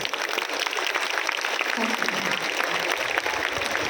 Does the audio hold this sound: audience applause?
yes